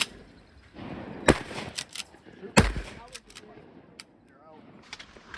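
Shotgun blasts during a youth duck hunt in Wisconsin, with two loud sharp reports about a second apart standing out over outdoor background and faint voices.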